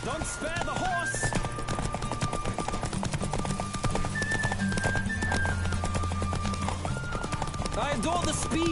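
Rapid hoofbeats of a galloping horse in a video game race drum steadily under occasional neighs, with synthesized tones and voices talking over the rhythmic clatter.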